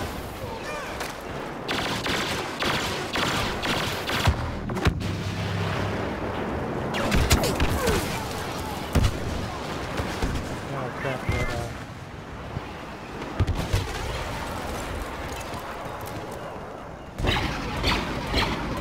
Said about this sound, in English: That turbo laser shot me through a rock